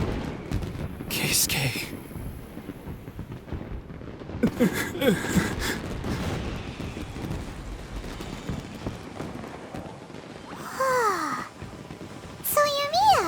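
Fireworks in Genshin Impact: crackling, booming bursts arrive in a few clusters, mixed with character voices speaking throughout.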